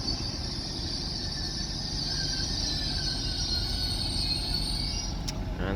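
A train running through Oxenholme station on the West Coast Main Line, Edinburgh-bound: a steady rumble of wheels with a long, high, sustained rail squeal over it for about five seconds, moderately distant, no talk.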